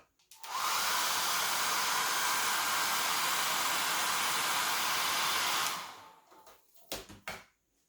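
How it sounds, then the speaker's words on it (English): A hair dryer roars steadily at full blast for several seconds, close and loud, heating an electric scooter's plastic cover to loosen adhesive, then cuts off, followed by a few light clicks and knocks. "I'm first going to heat it up with a hairdryer to loosen the adhesive a bit"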